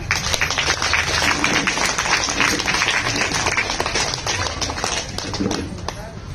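An audience at a spiritual talk on meditation breaks into applause, with dense, continuous clapping that stays loud and steady throughout before easing slightly near the end.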